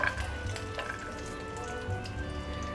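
Almonds and raisins roasting together in a pan over a slow flame for lauki halwa, a soft continuous sizzle with light crackles and faint stirring.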